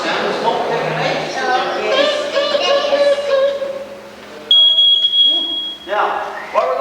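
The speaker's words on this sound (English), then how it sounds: "You know what the sound of smoke detector makes?" A smoke detector alarm suddenly blares with a loud, piercing steady electronic tone partway through, after a stretch of someone talking; talk resumes beneath it as the beeping continues.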